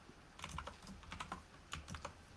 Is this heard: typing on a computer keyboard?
yes